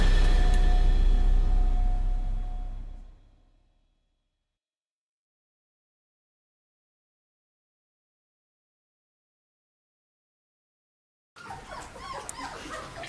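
Czechoslovakian wolfdog puppies, 19 days old, and adult dogs in a kennel nursery: a loud opening fades into a long silence, then small, close whimpers and yips return near the end.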